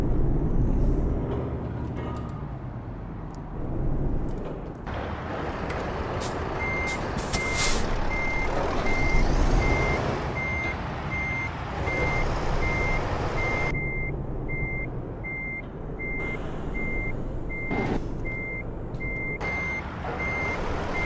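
A long truck in American Truck Simulator backs up, steady reversing beeps pulsing over a loud rumbling engine with an occasional air-brake hiss, no speech throughout.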